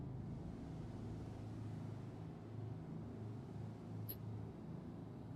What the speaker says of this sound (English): I can hear the engines firing up though